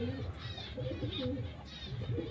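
A flock of ordinary pigeons coos continuously in overlapping throaty calls, with light chirps mixed in, close and fairly loud.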